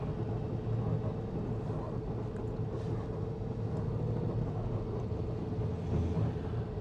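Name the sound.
road traffic on main road in Paphos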